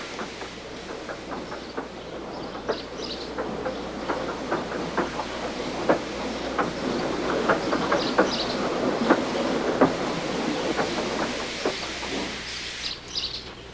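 A steam engine train runs on rails with rhythmic clickety-clack beats and a steady rumble, fairly close and gradually building. Faint bird calls sound in the background.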